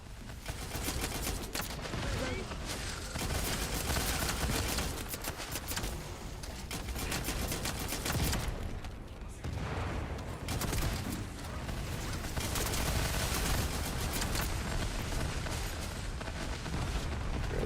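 Sustained gunfire in The First Descendant as a resupplying Vulgus aircraft is shot down, a dense, continuous barrage of shots and booms mixed with game sound across the whole stretch, loud and unbroken.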